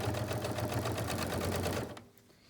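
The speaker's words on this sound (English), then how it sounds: "I'm going to go ahead and sew forward, reverse, and continue going forward again." Quilt binding is stitched on a sewing machine, which whirs steadily and close for about two seconds before stopping, leaving a quiet hum.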